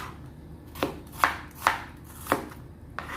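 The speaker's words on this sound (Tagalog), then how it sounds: "Unahin ko muna paghiwa ng bawang" A knife chops garlic on a cutting board in five sharp, close, evenly spaced thuds over a quiet background.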